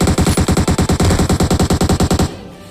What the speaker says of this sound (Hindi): अब इस बंदे को मैंने शॉट दिया, वो भी हेड पे नहीं, बॉडी पे भी नहीं दिया, वो सीधा पैर पे